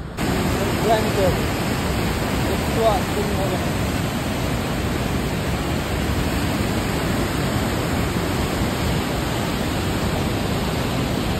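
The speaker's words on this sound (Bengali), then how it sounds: "জলের শব্দ শুনতে পাচ্ছেন?" Water roars steadily through the open gates of the Farakka barrage on the Ganges, a loud, unbroken broadband rush that holds constant, with faint voices under it.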